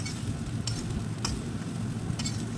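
An egg fries in oil in a pan, a soft, steady sizzle with a few faint ticks, quiet and close, with no voices.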